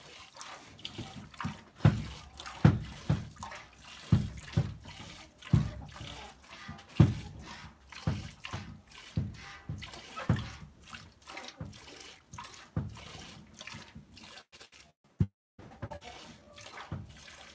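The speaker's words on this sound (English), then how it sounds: "I pretty much pinch and then just strip the milk out by stripping it down" Goat milk is hand-stripped into a pail in rhythmic squirts, each one a sharp splash. They come about once a second, close and loud, briefly stop, then one more follows, and nobody talks.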